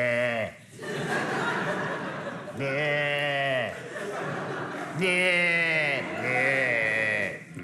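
A voice imitates a sheep, giving several drawn-out wavering bleats one after another, close and fairly loud, with laughter mixed in.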